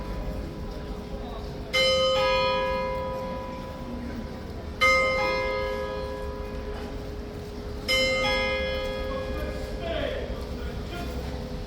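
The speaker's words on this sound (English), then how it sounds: "There's the bell." A large bell at Horse Guards in London rings three slow, resonant strikes, each chime decaying over a couple of seconds, over steady outdoor crowd murmur and distant chatter.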